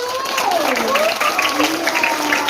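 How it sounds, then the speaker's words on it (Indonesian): Applause from an audience, including schoolchildren, at a Maulid Nabi religious gathering, dense clapping mixed with cheering and sliding, sing-song children's voices, loud and close. "Beri tepuk tangan dulu."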